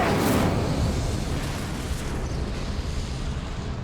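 The Incendio fire spell cast in Hogwarts Legacy, a loud, sustained roaring whoosh of flame that fills the whole stretch and fades only slightly toward the end.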